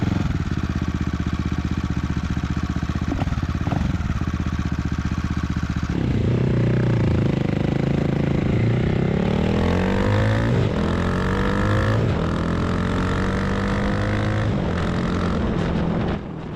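CCM retro naked motorcycle ridden on a high mountain road in Wales, its engine loud and close throughout, revving and shifting up through gears with rising and falling pitch over a rush of wind.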